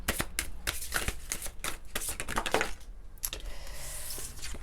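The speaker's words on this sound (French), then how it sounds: "on va prendre les cartes de lumière, l'oracle de lumière" A deck of oracle cards is shuffled close up, a rapid run of crisp riffling flutters and card slaps in quick bursts, with a short pause partway through.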